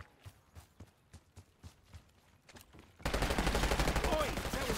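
Call of Duty: Black Ops 6 multiplayer gunfire on the Derelict map: a run of distant, evenly spaced shots, then a sudden switch to loud, dense, close firing and battle noise.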